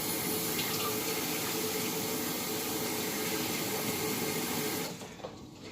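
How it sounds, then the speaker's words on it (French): Tap water runs steadily over a kitchen knife being rinsed while making a homemade pollock salad, a continuous close splashing stream that cuts off near the end. "Et je lave mon couteau."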